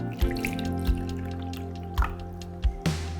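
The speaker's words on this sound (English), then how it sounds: "add water up to my fill line," Water poured into an essential oil diffuser up to its fill line, with close trickling and a few distinct drips over a steady background hum.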